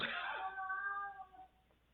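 A house cat gives one drawn-out, slightly hoarse meow lasting about a second and a half and then trailing off, fairly faint and close by with a quiet background.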